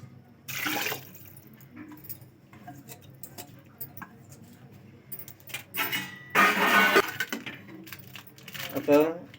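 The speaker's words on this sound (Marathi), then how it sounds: "त्याच्यावरती आता ते आपल्याला पाहिजे तितका पाणी ते टाकायचं" Water is poured into a cooker pot of veg pulao in a couple of splashy bursts, with metallic clinks and some rustling between pours, heard up close.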